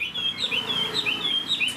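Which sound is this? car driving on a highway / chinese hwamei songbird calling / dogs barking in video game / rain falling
chinese hwamei songbird calling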